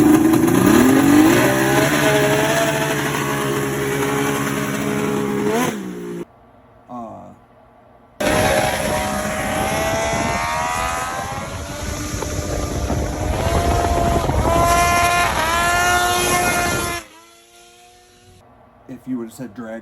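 A racing lawnmower capable of over 100 mph screams past with a loud, high-revving engine whine that climbs in pitch, cuts out, then returns for a second long, sustained run before dropping away.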